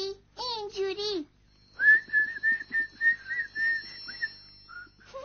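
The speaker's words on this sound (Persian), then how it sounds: "سوت زدن رو دوست دارم" Cartoon characters trying to whistle: a short voiced, wavering tone, then a string of breathy, pitched whistle bursts in an uneven rhythm, sliding up at the end, close and fairly clear over a faint steady hum.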